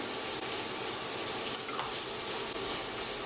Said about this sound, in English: the ginger root here goes into the saucepan